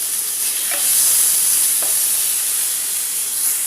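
Chopped tomatoes and onions fry in hot oil with a steady bright sizzle and hiss, a couple of soft stirring scrapes breaking through the continuous crackle.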